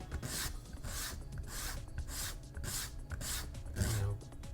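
A wooden Boba Fett armor piece is pushed back and forth over sandpaper laid flat on the floor, making regular rasping strokes about twice per second, close and moderately quiet.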